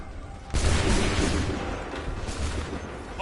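A volley of musket gunfire in Assassin's Creed 3, one loud booming crash of many shots at once that rolls on in a long, noisy echo.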